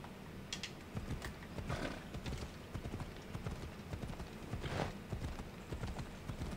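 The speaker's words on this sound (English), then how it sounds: "Sometimes I don't like how slow the horse runs." A horse gallops in the video game Assassin's Creed Odyssey, its hooves striking in a quick, steady clip-clop rhythm that runs without a break at moderate loudness.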